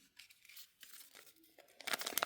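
Packs of Littlest Pet Shop cards from a series 4 camping set are torn open up close, with quiet crinkling and ripping of packaging in short bursts that grow louder at the end.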